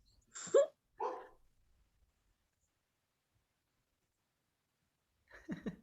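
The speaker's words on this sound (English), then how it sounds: "they muted the dog" A dog gives two quick, close barks, followed by a long silence and then a third, softer bark or yelp, with no voices heard.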